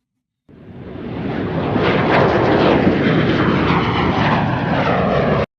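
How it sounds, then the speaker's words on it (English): A jet aircraft sound effect from a Nuendo library fades in, swells to a loud, broad engine roar and whoosh, and holds steady for several seconds before cutting off abruptly. "We've got a jet."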